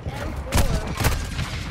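M4 rifle gunfire in a first-person shooter: two loud, close bursts of shots about half a second apart over steady game noise, with a voice faintly present.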